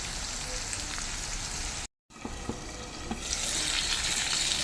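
Kerala-style choora tuna pieces frying in a pan, a dense close hiss and crackle of sizzling oil that cuts out briefly, then resumes and grows brighter and louder toward the end.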